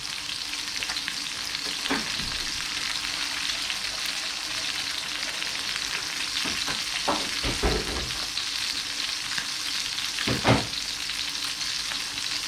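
Breast meat sizzles and renders its fat in a small pan with a loud, continuous frying hiss. Scattered sharp spits and crackles break through, louder near the end, and nobody speaks.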